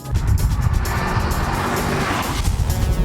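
A Holden Club Sport slides sideways on a race track, its engine roaring loud and close with tire squeal layered over the rumble as the car drifts through the straight.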